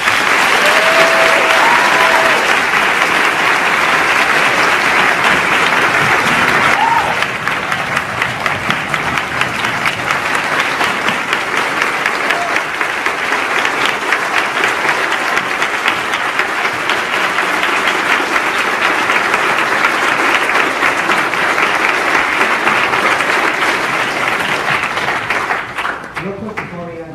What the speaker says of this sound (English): Another round of applause for Mr. Shapiro.